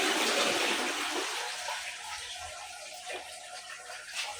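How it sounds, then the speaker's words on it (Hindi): Water gushes and rushes as a toilet flush is pressed on an American-style commode, loud at first then settling into a steady, fading wash of running water with no talk. "जैसे प्रेस किया पानी आ गया"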